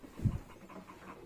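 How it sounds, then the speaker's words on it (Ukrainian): A small dog in a Ukrainian village yard gives a short, close burst of panting near the start, then settles into quieter low breathing and faint background noise. "ого, у вас какой песик"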